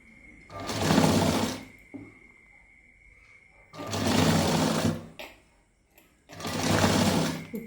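A sewing machine stitches cloth in three loud, close bursts of rapid mechanical whirring, each lasting about a second, with quiet gaps between them.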